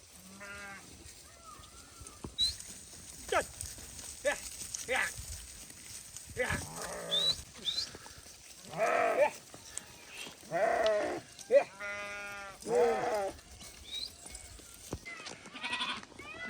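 A flock of sheep and goats herded by Gaddi shepherds bleats repeatedly outdoors on a forest trail in Himachal, overlapping calls rising and falling, some near and loud, others fainter, with a faint background drone.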